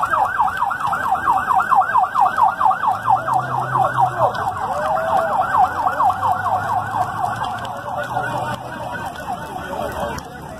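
An ambulance from Pelotas, halted on the BR-116 highway at Tapes during a roadblock protest, sounds a loud, rapidly warbling wail that repeats steadily and close by, with a low engine hum beneath it.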